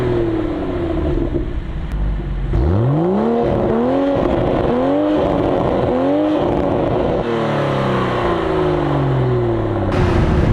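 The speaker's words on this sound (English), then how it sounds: "Just listen to the revs." A 2023 Toyota GR Supra 3.0 Premium with a manual gearbox revving hard, the engine note sweeping up and dropping back through several quick rises, loud and close, with a final surge near the end.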